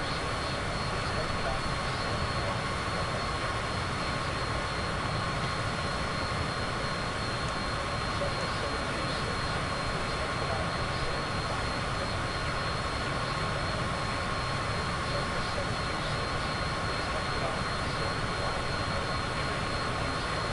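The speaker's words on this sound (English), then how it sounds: "the plane's really loud" Steady, loud airplane engine drone inside Microsoft Flight Simulator 2024, a constant broadband roar with a faint high whine that holds unchanged throughout.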